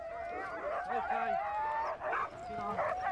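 Siberian huskies from a sled team in a forest, yipping, whining and barking in rapid overlapping bursts, close and loud, with a busy mix of several dogs through the whole stretch.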